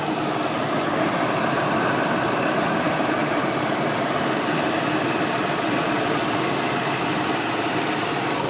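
A 1982 Cadillac hearse with a 368 cubic inch, 6 liter V8 idles steadily close by, its broad rumble continuous and loud throughout with no voices.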